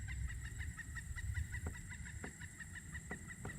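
Near a creek, an unidentified bird gives a series of odd, repeated clucking calls in short irregular bursts, faint and distant beneath steady outdoor background noise.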